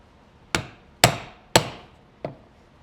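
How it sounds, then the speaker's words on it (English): A 10-tine leather stitching chisel is hammered into leather while a handmade belt is made: four sharp, separate strikes, near and fairly loud, with the last one lighter, and no talk. "and using my 10-tine chisel here"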